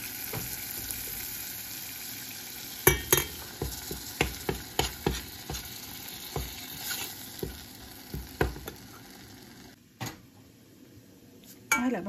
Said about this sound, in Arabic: بحمصهم بالزبدة